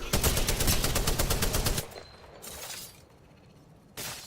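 Rapid automatic gunfire in Apex Legends, sharp evenly spaced shots rattling off in a fast burst for nearly two seconds. It is followed by quieter game noise and one more loud crack near the end.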